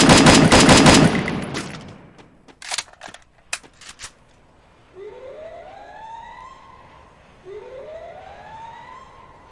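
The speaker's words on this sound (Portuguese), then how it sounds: "Dá uns tiros pra cima aí" A rapid burst of video game AK-47 automatic gunfire, then a few scattered shots, followed by a rising and falling siren wail twice.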